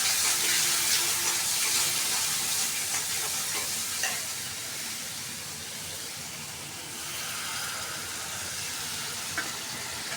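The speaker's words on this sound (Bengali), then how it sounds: "পেঁয়াজ দিয়ে দিয়েছি চুলায়। মশলা একদম কষাই নেব" Onion and spices sautéing in a pan on a stove for a curry, a steady broad sizzle with faint stirring scrapes, fairly even and continuous, no voices.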